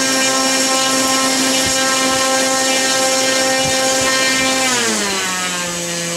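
The electric motor and propeller of an SC15 Sport Cub RC plane scream steadily at full power, a loud whining tone that bends downward near the end as the throttle eases off.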